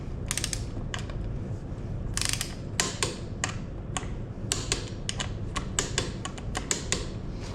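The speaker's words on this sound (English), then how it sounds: "So you get to click each side and just get it until there's no movement when it clicks." A clicking adjuster on a 2016 Honda CRF230F dirt bike ratchets in quick bursts of sharp, close mechanical clicks, some runs fast and clustered, others spaced apart, with short pauses between.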